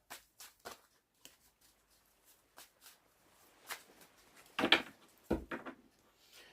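Tarot cards are shuffled in scattered soft bursts of riffling and tapping, quiet and close, with a denser cluster of shuffling toward the end.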